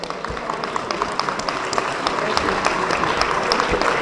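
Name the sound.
lawyers convention audience applause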